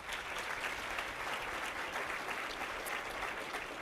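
An audience at a behavioral health professional awards event claps for the judges, an even, sustained wash of many hands, heard at moderate distance without talk.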